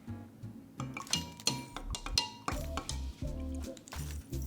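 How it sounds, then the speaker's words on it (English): A spoon stirs a cordial mixture in a container, making close, irregular clinks and scrapes of metal against the vessel in quick bursts, with no voices. "Give that a stir."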